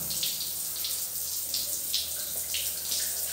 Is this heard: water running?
yes